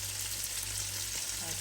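Salmon, potatoes and vegetables simmering in a pan, a soft steady sizzle with a low background hum, faint and continuous with no speech.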